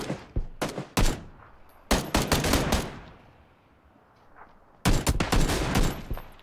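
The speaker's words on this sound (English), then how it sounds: "they're shooting at us from the north too." Gunfire in the PUBG video game rings out in rapid bursts, close and loud, with a lull of fading echo between volleys before another heavy burst resumes.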